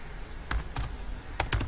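A few quick bursts of keystrokes on a computer keyboard while code is typed, close and crisp, in two short clusters separated by a brief pause, with no speech.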